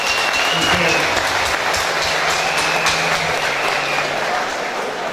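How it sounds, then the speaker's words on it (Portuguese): An audience at a business event breaks into sustained, loud applause, dense clapping filling the room from start to finish with some crowd voices mixed in. "Palmas para o Gomercino."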